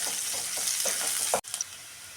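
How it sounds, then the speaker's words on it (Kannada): Onions sizzle in hot oil for tempering, a steady bright crackle with a few stirring scrapes, briefly cut off and then resuming. "ಸ್ವಲ್ಪ ಇದನ್ನು ಚೆನ್ನಾಗಿ ಎಣ್ಣೆಯಲ್ಲಿ ಈರುಳ್ಳಿ ಚೆನ್ನಾಗಿ ಫ್ರೈ ಮಾಡ್ಕೊಳ್ಳೋಣ"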